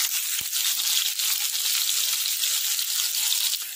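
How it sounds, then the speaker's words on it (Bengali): Potatoes sprinkled with turmeric frying in a pan while being stirred, giving a steady bright hiss of sizzling oil with faint scraping, close and continuous, with no voices. "আমি আলুগুলোকে সব দিয়ে দিয়েছি, এবার এটাকে নাড়তে থাকবো।"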